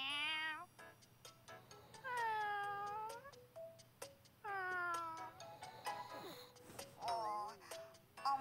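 Several cats meow one after another in an anime-style fantasy RPG, Princess Connect! Re:Dive, with long rising-and-falling cries and a few shorter mews spaced across the stretch over a faint steady background hum.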